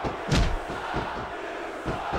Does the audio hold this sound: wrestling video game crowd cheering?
yes